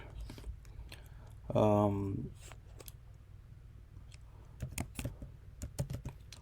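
A computer keyboard is typed on in short, quiet bursts of close clicks during a coding session, with one brief voiced sound near the start and scattered keystrokes continuing to the end.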